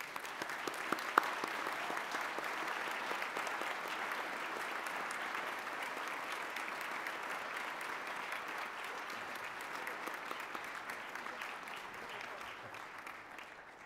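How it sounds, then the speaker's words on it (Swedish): Steady, dense applause from a large audience at a church conference, even and continuous for the whole stretch, moderately distant. "ni ska nu få ta emot våran hyllning i form av en stor applåd"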